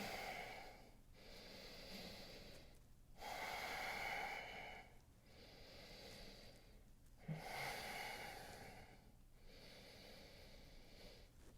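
Slow, deep breaths during a hatha yoga flow with a weighted vest, each long inhale and exhale rising and falling in steady cycles, close and fairly quiet, with no talking.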